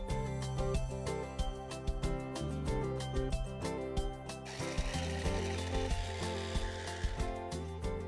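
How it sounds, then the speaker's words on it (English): A kitchen blender crushes three slices of wheat bread into breadcrumbs, with a loud rough grinding that swells after a few seconds over steady background music with rhythmic beats. "I have 3 slices of wheat bread here and now I'm going to crush it in this blender."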